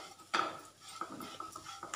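A spoon scraping and clinking around a pan while turmeric is stirred into a coconut mixture, with one sharp clatter followed by lighter, irregular scrapes close by, no talking.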